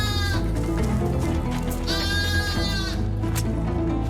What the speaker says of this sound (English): There's 15 sheep.